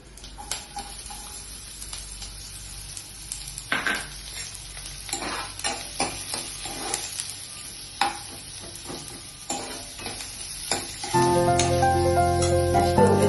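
Onions dropped into two spoons of hot oil for a South Indian bottle gourd curry, with scattered clinks and stirring over a steady low sizzle that swells into a louder, denser frying hiss near the end.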